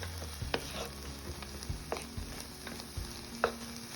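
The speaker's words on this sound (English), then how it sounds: "our meat is cooked and our veggies are getting tender" Ground turkey and vegetables fry in a pan without oil, giving a soft, continuous sizzle broken by several sharp utensil scrapes and clinks as the mixture is stirred, recorded close and fairly quiet with no talking.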